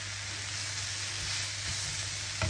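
Trumpet mushrooms frying in a pan alongside other mushrooms, a continuous soft sizzle with a low steady hum beneath and a brief clatter near the end.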